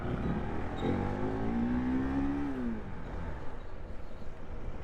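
A KTM 390 Enduro motorcycle engine revs up at an off-road race, its pitch climbing steadily then dropping off, close by, followed by a rougher idling rumble.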